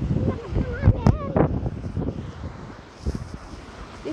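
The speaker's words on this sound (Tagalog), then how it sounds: "Ang lakas ng hangin guys." Gusty wind buffeting the microphone in loud bursts, with people talking briefly over it near the start.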